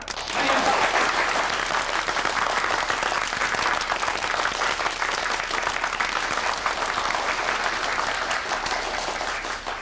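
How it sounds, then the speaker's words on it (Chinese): Dense, steady applause from a meeting audience welcoming workers' club representatives, a full, close roar of many hands that holds for about ten seconds. "让我们以热烈的掌声欢迎他们的到来。"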